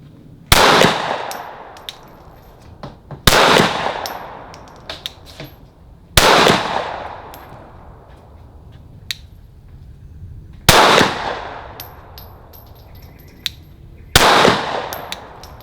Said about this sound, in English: All right, 50 yards, pistol, Glock 19, no stabilizer. It's a long shot.